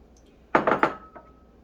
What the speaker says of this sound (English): Next thing that we can do is we can just add our carrots